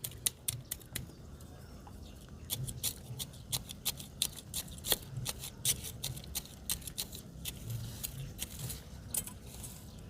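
Pruning shears snipping thick roots of a rose plant during repotting in cinder media, many sharp close clicks and snips in an irregular rhythm over a soft background.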